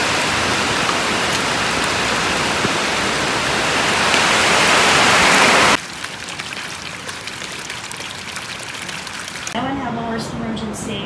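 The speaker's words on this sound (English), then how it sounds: "Like it's raining, raining, raining." Heavy rain pours steadily for several seconds, swelling louder before cutting to a thinner patter of falling drops, with a voice speaking briefly near the end.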